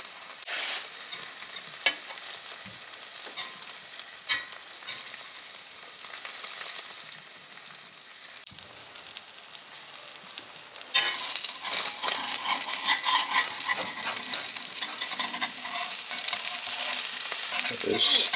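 Meat sears in a hot pan with a steady close sizzle, spitting and occasional scraping. It grows louder and busier in the second half.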